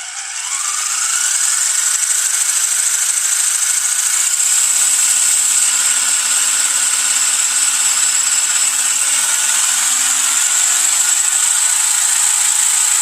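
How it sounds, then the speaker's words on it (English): A HAIBOXING 12811B RC buggy's electric motor spins up and holds a steady, loud high-pitched whine at full throttle for over ten seconds, with slight pitch shifts as it runs. "Now let's go ahead and give it some throttle."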